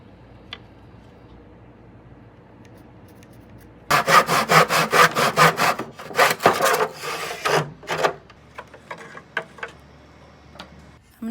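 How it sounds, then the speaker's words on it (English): A hand saw cuts through wood in a miter box, a quiet pause followed by about four seconds of close, rapid back-and-forth strokes that slow and fade into a few scattered scrapes. "I wanted a miter box."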